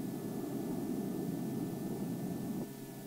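A Ryan Firebee KDA-4 jet target drone flies at high speed, heard as a steady, broad jet roar that holds evenly and then drops slightly in level near the end, with no voices.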